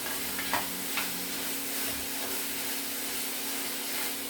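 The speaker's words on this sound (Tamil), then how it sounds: "பாருங்க, நல்லா வதக்கிட்டு இருக்கிறாங்க." Tomatoes and vegetables sauté in a pan in village-style cooking, a soft steady sizzle with occasional scraping stirs of a spoon against the pan, fairly quiet and with no talking.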